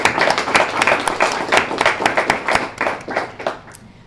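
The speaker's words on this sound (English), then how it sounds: "So let's give them all a great round of applause this morning." A modest morning audience at a student-of-the-month scholarship event claps, with distinct, fairly close hand claps forming uneven applause that thins out toward the end.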